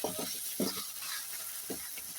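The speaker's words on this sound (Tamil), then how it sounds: "இப்பொழுது தேவையான அளவு உப்பு சேர்த்து நன்கு வதக்கவும்." Ingredients sautéed with salt in a pan for tomato rice, brief scraping stirs and soft sizzling heard up close, no voices.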